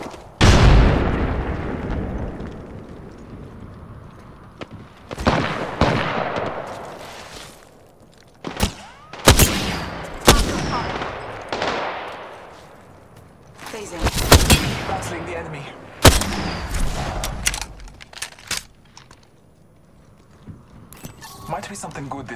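Bursts of gunfire and a heavy grenade blast crack and boom across a shooter video game battle, loud and irregular, with quiet gaps between volleys and an in-game voice speaking at points.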